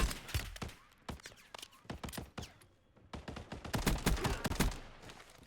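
Rapid gunfire at targets in Call of Duty Black Ops, dense bursts of sharp shots cracking in quick succession with brief pauses, fairly quiet overall and heard alone.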